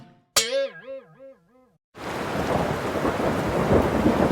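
A rainy-season thunderstorm rolls in with steady heavy rain and low rumbling, taking over after a brief warbling electronic tone and a moment of silence, and continuing loud to the end.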